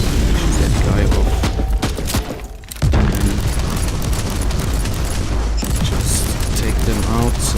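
Gunfire and explosions from Warhammer 40,000: Inquisitor, loud and continuous bursts of shooting with booming impacts, briefly dipping before resuming at full intensity, with game voices mixed underneath.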